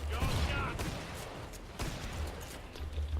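Shotgun blasts in the video game Killing Floor 2, a few sharp booming bursts a second or so apart, fairly close, with game noise and someone talking between them.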